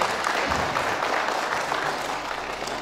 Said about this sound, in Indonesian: Ya, tepuk tangan dong Pak